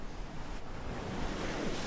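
Ocean surf in a video game washes in a steady, broadband hiss, close and continuous, with a slight swell toward the end and no voices.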